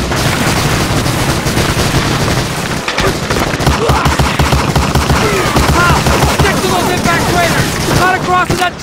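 Covering gunfire on Omaha Beach in Medal of Honor Allied Assault: loud, continuous machine-gun and rifle fusillades with booming artillery, and shouting voices mixed into the battle.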